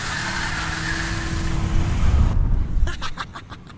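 A 1995 Lincoln Town Car rolls down a street, its steady engine and road rumble swelling slightly, then a series of short sharp ticks or clicks near the end; a voice is briefly heard inside the car.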